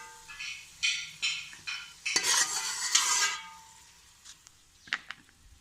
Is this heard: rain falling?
no